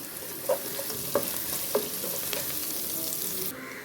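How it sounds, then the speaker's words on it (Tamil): Spices tempering in hot oil for lentil sundal, a steady close sizzle and crackle with a few sharp pops from seeds bursting, ending abruptly. "தாளிப்பை தாளித்து விடுவோம்"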